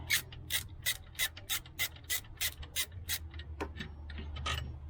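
A ratchet clicks in a quick, even series of sharp ticks while loosening an alternator bolt on a 2008 Acura RDX, close up, then gives way to a softer scraping and turning near the end.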